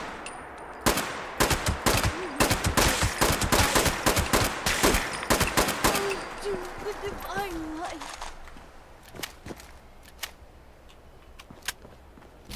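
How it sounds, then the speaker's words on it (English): Rapid bursts of semi-automatic rifle fire in a video game hunting Radstag, sharp repeated shots for about seven seconds, then a few sparse shots, with game sounds in the background. "Given that this rifle is acting in semi-automatic fashion"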